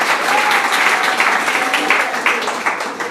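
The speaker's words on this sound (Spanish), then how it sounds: "Démonos un aplauso y gracias." A church congregation applauds together after a sermon, with dense, steady clapping from many hands that fills the room for the whole stretch, fairly loud and close.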